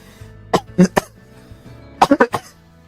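Two bursts of sharp, close coughing, a short cluster of three then another of four, loud against a quiet room with a faint low hum.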